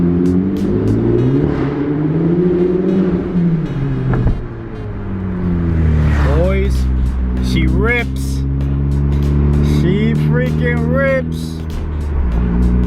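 A Honda Civic Type R with a Hondata tune accelerating hard in second gear through a tunnel, its engine note climbing loud and echoing across several upshift-like rises, with sharp whistling tones and pops near the end.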